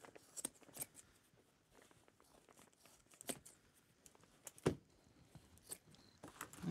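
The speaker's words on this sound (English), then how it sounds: "I'm going to carefully snip the top off." Quiet, close snips of scissors cut thread on a black velvet-covered hat frame. Several small clicks and crisp cuts come at irregular intervals, with faint rustling of fabric between them.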